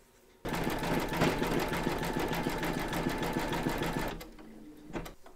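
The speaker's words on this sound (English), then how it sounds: "We're now going to pop our hoop into our machine and stitch round number 8, and that's going to zigzag along here" An embroidery machine zigzag stitches a quilt block in the hoop, starting abruptly into a loud, rapid, rhythmic needle clatter that runs for about four seconds, then stops, leaving a few faint clicks.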